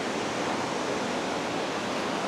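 Rainbow Waterfall in Meghalaya sends water rushing down from a great height, producing a constant, dense roar of falling water that stays steady and fairly loud throughout.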